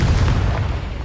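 A Confringo fire spell explodes in the video game Hogwarts Legacy, a loud, deep booming blast that rumbles and fades slowly over about a second, with no voices.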